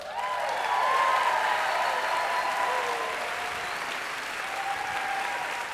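An audience at a school staff rally claps and cheers, a dense, sustained roar of applause with whoops and whistles rising above it, slowly easing off toward the end.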